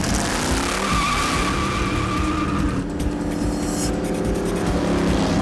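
A Factory Five car roars loudly under hard acceleration out of a driveway while its tires squeal and skid, the engine note shifting partway through.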